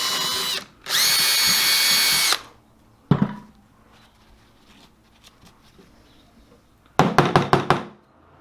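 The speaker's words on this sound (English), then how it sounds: "So I'm just gonna grab a drill" A power drill bores out a small hole in the rear differential of a 2005–2011 Honda CR-V during a power transfer unit upgrade. It gives a long steady whine, then a short burst, and ends with several quick pulsing bursts, close and loud.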